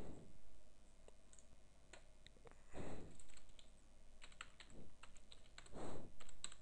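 Computer keyboard typing while writing a C# program, irregular clusters of close key clicks with a few heavier thumps, quiet and without talk.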